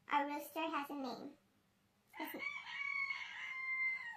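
A rooster crows loudly and close by, a long drawn-out call, preceded by a few short clucking or vocal bursts and a brief pause.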